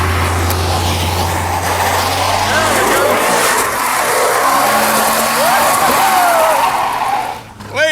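The Draguar, an EFI-equipped drag car, is held on the brakes while its engine revs hard, a loud, continuous roar with rising pitch sweeps, voices talking over it near the end.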